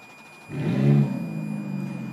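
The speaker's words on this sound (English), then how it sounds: "We're going to blip the exhaust here for you so you can get a feel for what it sounds like." A 2007 Ferrari F430 Spider's exhaust gets a single quick blip, a deep engine rumble swelling and settling back to a steady idle, close by with no talk over it.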